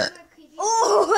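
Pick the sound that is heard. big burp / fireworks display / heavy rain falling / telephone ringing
big burp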